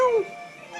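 A cat gives a short, clear meow, rising and then falling, close by, heard on its own during an outdoor hike.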